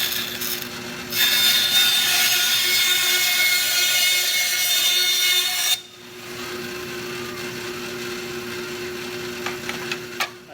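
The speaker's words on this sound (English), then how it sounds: "We're gonna come over to my bandsaw and cut them off." A bandsaw slices the overhanging plastic lips off a model kit, a steady loud rasping cut lasting several seconds before it drops to a quieter running hum with a few small clicks.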